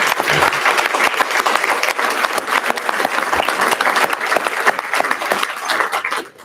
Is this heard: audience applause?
yes